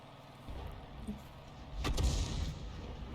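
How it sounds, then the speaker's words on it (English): A 105 leFH18B2 howitzer fires a round in a video game, a single heavy low boom with a sharp crack about two seconds in, trailing into a rumbling tail over a low background. "Another round out and that one fell short"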